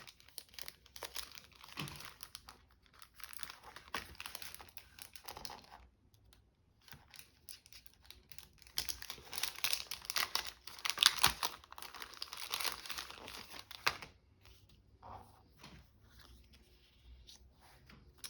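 Close, faint crinkling of plastic packaging holding vinyl die-cut stickers, in scattered bursts of rustling and crackling with short quiet gaps between handlings.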